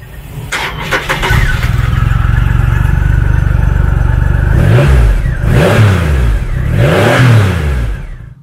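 A 2018 Triumph Rocket III Roadster motorcycle fires up, settles into a deep steady idle, then gives three sharp throttle blips that rise and fall, loud and close with no talk.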